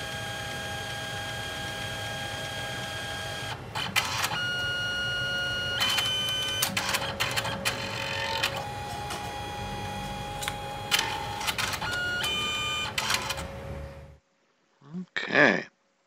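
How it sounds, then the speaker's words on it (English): A printer turning out stickers runs with a steady mechanical whir and hum, broken by repeated clicks and feed shuffles, close and continuous, then stops and goes quiet before a short final burst of sound. "We'll see it come out the printer."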